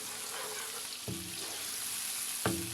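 Tomatoes and green chillies frying in a pan for an aloo baingan sabzi, a continuous soft sizzle broken by two brief knocks of a utensil against the pan, with no voices.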